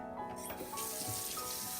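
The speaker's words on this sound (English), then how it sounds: "water going in" Tap water runs into a pan sitting in a kitchen sink as apples are readied for washing, a steady close rushing splash that fills the whole moment with no talk.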